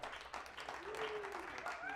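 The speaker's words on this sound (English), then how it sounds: "Give yourselves a round of applause." A comedy club crowd applauds: a full, continuous spread of clapping, with a faint tonal whistle or cheer rising through it over two seconds.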